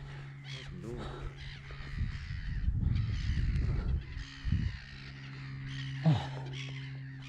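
Crows and geese caw and honk over a nesting pond in spring, a scattered chorus of calls from moderate distance, with a person talking intermittently.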